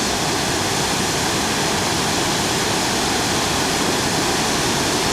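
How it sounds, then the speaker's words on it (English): Haru Falls in New Zealand runs heavy after two days of rain, a loud, dense and constant roar of cascading water close by with no voices over it. "A fair volume of water coming over after all the rain we've had in the last 48 hours."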